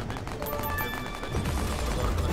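Continuous rapid gunfire from a weapon mounted on a car in the Roblox game Carcraft, a dense steady stream of shots lasting throughout, close and fairly loud with no talking over it.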